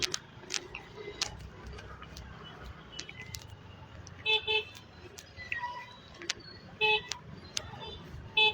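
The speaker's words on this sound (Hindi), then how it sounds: "तो यार हॉर्न क्यों बजा रहा है इतना, मुझे समझ में नहीं आई।" Car horns toot in short bursts amid city traffic, several brief honks near the end over a steady background rumble of vehicles.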